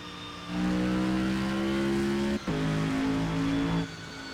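Supercharged 6.2-liter GM V8 in a Panoz Avezzano GT4 race car in a racing game, roaring loud and steady as it climbs through revs, one brief upshift dip midway, then easing off at the end.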